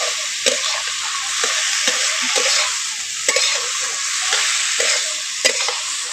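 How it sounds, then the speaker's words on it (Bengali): Shrimp and taro stalk curry with spices being stirred in a pan, a continuous sizzle of frying under repeated soft scraping strokes at a steady rhythm, close and fairly loud. "একটু ভালো করে নাড়াচাড়া করে নেব।"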